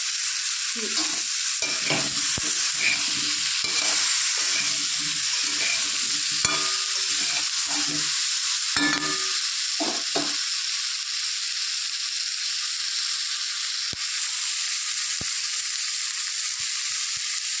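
Vegetables and green chillies fry in a pan, giving a loud, steady close sizzle that runs throughout, with scattered stirring clatter in the first half.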